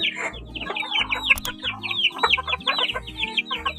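Chickens and a rooster cluck close by in quick, busy bursts, with one call overlapping the next for the whole short stretch.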